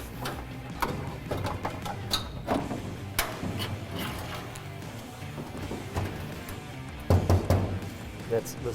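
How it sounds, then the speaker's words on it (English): A hand bangs on the bare tin transmission tunnel of a car in a garage, producing scattered metallic knocks and rattling clatter, with one louder burst near the end. "Bang on the side of that tunnel, just so they can feel what a tin sounds like"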